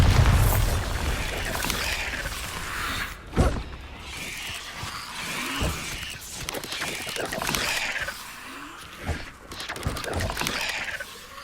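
A Bombarda spell explosion in the video game Hogwarts Legacy, heard as a sharp boom near the four-second mark among clanking mechanical game sounds and smaller pops, with background game noise throughout.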